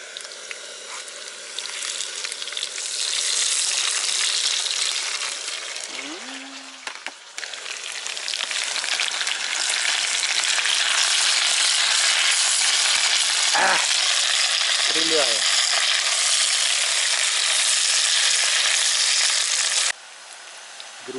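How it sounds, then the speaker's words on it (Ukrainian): Steady, loud sizzling of potatoes frying in oil outdoors by the water on a gas-canister stove, a dense crackling hiss throughout, with a few brief louder spits and clinks. "будемо смажити картопельку на вечерю"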